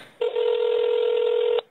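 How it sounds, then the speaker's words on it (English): A single steady telephone dialing tone plays over a speakerphone, a clean continuous beep lasting just over a second, close and clear with no talk. "So we are dialing Dave here."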